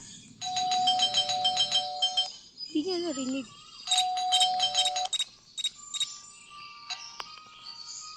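Electronic doorbell chimes from the Scary Teacher video game ring in two repeated melodic bursts, close and bright, with a voice talking briefly between them and a few softer tones afterward.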